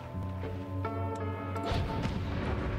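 Explosion in the Noita video game: a deep booming blast with crashing debris that follows a sustained tonal hum, loud and close, fading into rumbling rubble.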